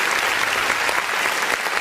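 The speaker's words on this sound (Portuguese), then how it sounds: "Vamos aplaudir o nome do Senhor." A church congregation at a worship service claps together, a dense, steady burst of applause filling the room, loud and continuous with no voices standing out.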